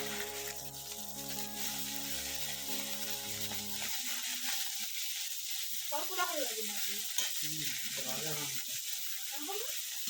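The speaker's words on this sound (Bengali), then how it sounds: "ওই কড়াইয়ের মধ্যে মাছ ভাজা বসিয়ে দিয়েছি" Fish fries in a home kitchen wok, a soft continuous sizzle running throughout; early on a sustained tonal hum sits underneath, then gives way to brief clinks and faint scraping stirs over the quiet frying.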